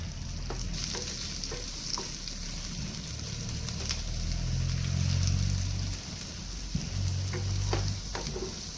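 Onions and curry leaves sizzle and crackle steadily in hot oil, a dense close frying hiss with occasional sharper pops and a low stirring rumble throughout.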